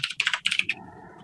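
Keys on a computer keyboard clatter in a quick run of about eight crisp taps, close and clear, followed by a softer low hum as the typing stops.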